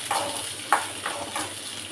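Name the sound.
onion, ginger, cinnamon, clove and pepper frying in a pan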